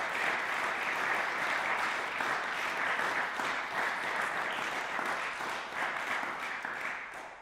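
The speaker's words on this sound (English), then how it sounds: "Let's give them all another round of applause." Sustained applause from an audience at a music scholars' lunchtime concert, a dense, steady wash of many hands clapping at full strength throughout, tapering only slightly near the end.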